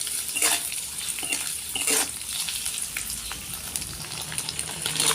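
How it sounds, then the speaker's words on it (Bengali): Paneer cubes frying in a pan with salt and turmeric, stirred continuously: a steady close sizzle with scraping spoon strokes at irregular intervals, no voices. "যেহেতু আমরা নুন হলুদ দিয়ে পনিরটা ভাজছি, তাই আমাদেরকে কিন্তু কন্টিনিউ এটাকে নেড়ে যেতে হবে"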